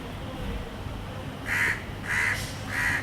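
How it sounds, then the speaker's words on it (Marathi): A crow perched on a jackfruit tree caws three times at an even pace, clear and fairly close, over a quiet outdoor background hum. "त्याच्यावर बसलेला कावळा काव काव करतोय"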